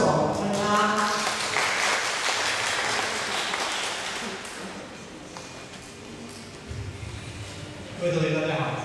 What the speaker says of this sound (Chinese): 我们拍拍手，欢迎他。